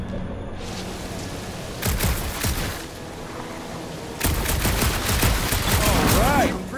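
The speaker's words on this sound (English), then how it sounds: "I got eyes on this gunked up reactor. A couple of shots should bring it down." Gunfire in Marvel's Guardians of the Galaxy as shots hit a gunked-up reactor, loud bursts of shots coming in two heavy clusters over a steady game background, with a brief whooshing tone near the end.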